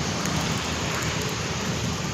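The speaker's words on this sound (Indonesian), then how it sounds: "Jadi ini kondisi masih hujan." Rain falls steadily, making a dense, even wash of noise with no other clear sounds.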